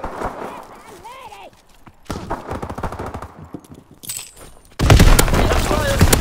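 Dense automatic gunfire and bursts from Call of Duty WW2 multiplayer, rapid volleys layered with distant shots, swelling to a loud close barrage near the end, with radio-style game voices over it.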